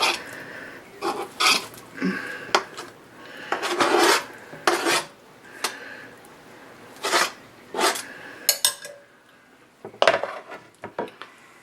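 Shredded chicken is scraped from a dish into a pot holding dumpling mix, giving repeated rough rasping scrapes and utensil clatter in irregular bursts with short pauses between.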